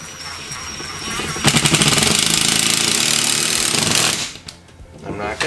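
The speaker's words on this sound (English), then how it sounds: "And then we're going to put this screw in." A power drill drives a screw to mount a Vevor tool organizer, a loud close buzzing whir running for about three seconds before stopping, then a lower rumble at the end.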